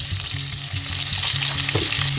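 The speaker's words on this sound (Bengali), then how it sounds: "আলুগুলোকে লাল লাল করে ভেজে নেবো" Potatoes with salt and turmeric frying in hot oil in a wok: a steady, close sizzle with soft crackles and the occasional scrape of stirring.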